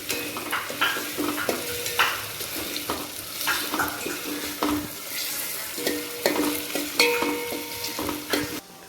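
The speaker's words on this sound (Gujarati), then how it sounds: "અને હલાવવાનું છે તો હું હલાવી દઉં" Khichdi being stirred as it fries in a pot, a steady sizzle broken by repeated scraping stirs of a spoon against the metal, close and continuous with no talk.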